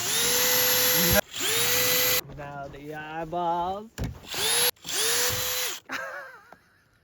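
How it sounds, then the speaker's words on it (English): A power drill drilling into ice whirs in several steady, high-pitched bursts, each starting and stopping abruptly, with a person talking in the gaps between them. "So now we get our power tools. You're gonna need a drill."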